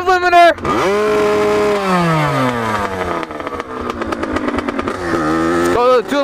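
A motorcycle engine revs hard up to its rev limiter, loud and close, with the pitch climbing and then stuttering in rapid pulses as the limiter cuts in, before the revs drop and rise again.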